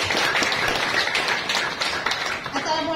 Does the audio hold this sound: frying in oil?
no